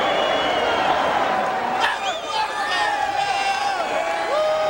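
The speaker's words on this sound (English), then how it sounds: "And this sellout crowd loving it" A sellout boxing crowd in Houston roars and cheers after a knockout, a loud dense wall of shouts, whistles and whoops, while an announcer talks over it.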